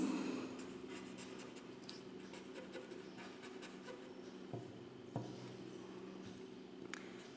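Quiet handwriting on paper, a soft continuous scratching of pen strokes with a few small taps and pauses, close and faint, without speech.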